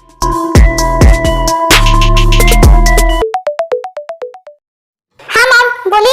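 An unanswered phone call rings out as a loud electronic tone pattern: a sustained buzzing tone, then a quick run of descending beeps, followed by silence before a voice begins speaking.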